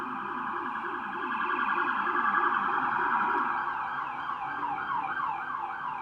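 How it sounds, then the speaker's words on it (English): Emergency sirens wail outside, rising and falling in a repeating pattern that holds steady and fairly loud for several seconds with no talk over them. "Sirens and everything."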